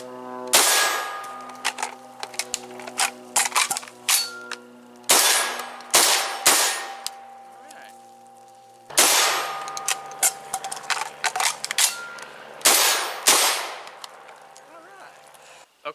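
Repeated loud shotgun blasts from an RIA VRBP-100 at an outdoor range, fired in rapid bursts of several shots with short pauses between strings, each report sharp with ringing metallic clang.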